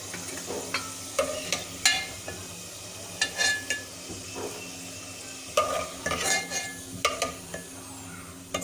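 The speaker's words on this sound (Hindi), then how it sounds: "इस तरह से फ्राई करने से आलू में फ्लेवर बहुत अच्छा आता है।" Potatoes frying in a pan, a steady sizzle under repeated scraping and clinking strokes of a spoon stirring them, close and moderately loud, no voices.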